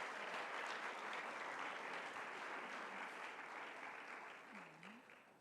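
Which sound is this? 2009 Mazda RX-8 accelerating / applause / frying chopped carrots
applause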